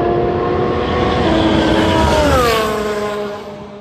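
A Formula 1 race car engine at full throttle on a track, a loud, high-pitched harmonic scream that rises and then bends downward in pitch as the car passes, fading slightly at the end.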